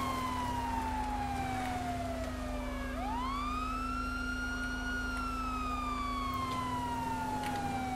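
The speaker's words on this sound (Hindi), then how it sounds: "यहाँ पे सायरन ऑफ करता हूँ।" A police car siren in the video game GTA 5 on a Mumbai patrol wails in long rising and falling sweeps over a steady engine hum, loud and close throughout with no talk.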